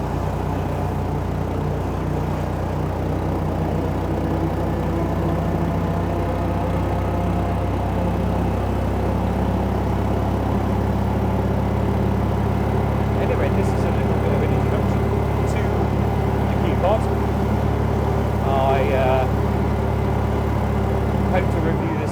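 A Secma Qpod 340 microcar driving around a village, its small engine droning steadily and close throughout with road rumble, while a person talks intermittently over it.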